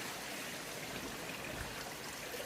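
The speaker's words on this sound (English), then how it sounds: "Just hear the water in the background." Water trickling in a garden fish pond, a soft, steady splashing wash heard faintly and continuously with no talk.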